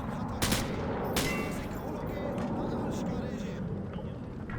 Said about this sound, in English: Turn around and fire at the targets.